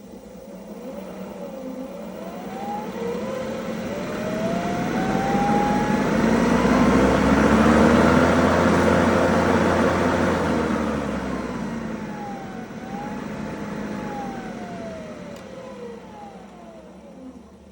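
An electric John Deere tractor's motor whines up in pitch as the throttle controller opens, easing back and climbing again in long, smooth sweeps over a steady hum, loud and close.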